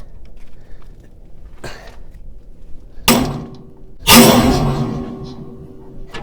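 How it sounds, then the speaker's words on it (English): A pitman arm puller used on a steering stabilizer joint of a 1997 Jeep XJ gives a faint tick, then a sharp metallic bang and a louder second pop as the joint breaks free, ringing briefly in a quiet workshop. "This is a pitman arm puller, but it turns out to be useful for a lot of things that aren't pitman arms"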